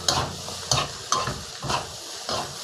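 Fried rice with Thai fermented pork (nam) and kale stir-fried in a pan over medium-high heat, with a steady sizzle and periodic scraping spatula strokes roughly every half second, close and fairly loud, no talking.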